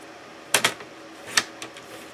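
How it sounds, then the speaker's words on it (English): Scissors snip through quilting fabric along a marked line, a few sharp crisp cuts close by in a quiet room, two quick snips followed by a single cut and fainter ones. "And I'm just going to cut right on that mark."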